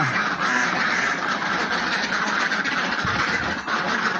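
Flock of laying ducks on a farm, just starting to lay eggs, quacking continuously in a dense overlapping chorus, loud and close, with no talk.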